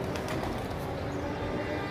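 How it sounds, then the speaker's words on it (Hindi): Soft pigeon cooing against a steady outdoor background hum, continuous and fairly dense, with no clear talk over it. "अभी कबूतर आ रहा है वापस"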